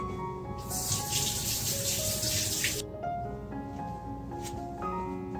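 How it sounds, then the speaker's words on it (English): Water runs from a kitchen tap during hand washing before seasoning lamb chops, making a bright, close gush for about two seconds before it stops, followed by faint clinks and quiet kitchen sounds. "And so I'm now going to just wash my hands."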